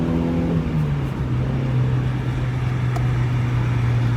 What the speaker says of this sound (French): Et c'est monté en régime.